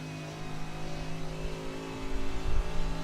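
Race car engine at full throttle in the iRacing sim during the 12 Hours of Suzuka, a steady high-revving drone with strong harmonics, held flat and building slightly louder near the end, with no talk.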